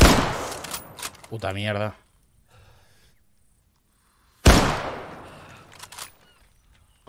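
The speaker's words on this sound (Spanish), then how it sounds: "Disparos desde la cota central." Two sharp broadband bangs a few seconds apart during a tactical shooting training exercise, likely airsoft, each decaying quickly, with a voice cursing between them.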